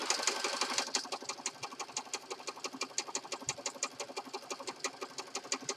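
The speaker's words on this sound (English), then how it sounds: "Guess I'll kind of stitch across this way." A sewing machine stitching through junk journal pages, a fast, even run of mechanical clicks and whirring pulses at close range, continuous and alone.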